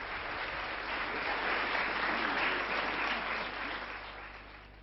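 Fourteen-year-old students applauding after a performance of medieval music, a full, continuous crowd of clapping hands that swells in the middle and slowly fades, heard over a low steady hum.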